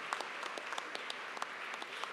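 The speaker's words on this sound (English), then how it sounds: "Please give a round of applause to the degree candidates" A large crowd at a university graduate commencement ceremony applauds in a dense, steady patter that sounds soft and distant, as if heard from across a big hall.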